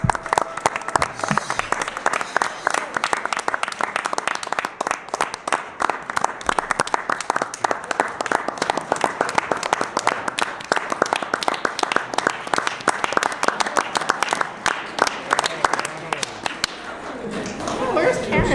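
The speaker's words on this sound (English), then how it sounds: "a nice round of applause for our Citizens for Homewood Schools" A board of education meeting audience gives a long round of applause for a community schools group, sustained, crisp, closely packed clapping from a room full of people, holding steady throughout and easing slightly at the very end.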